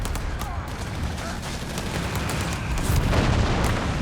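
Artillery barrage pounding a machine-gun position in Company of Heroes 3, a dense continuous rumble of booms, shell impacts and rattling gunfire, loud and sustained throughout.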